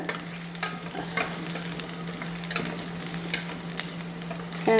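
Onions and green chillies sizzle and fry steadily in a pan, a continuous crackling hiss with occasional stirring clicks and a steady hum underneath, close and moderately loud with no talking.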